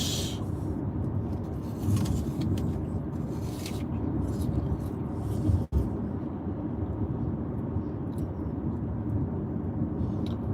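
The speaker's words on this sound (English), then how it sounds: "So now the traffic's easing up a bit." City street traffic rumbles steadily from inside a car driving past shops and a diner, with a continuous low drone and occasional passing swells.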